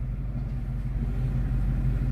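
Truck engine idling with a steady, deep rumble that stays even and close throughout, with no voices over it.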